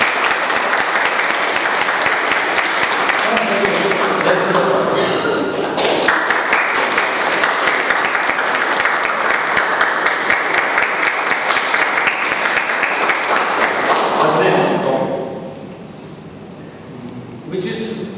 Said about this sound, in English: So big round of applause for Nivedita.